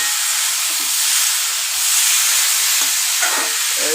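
Pumpkin and potato curry fries in a pan while being stirred, giving a steady, close hiss and sizzle with a few soft scraping stirs.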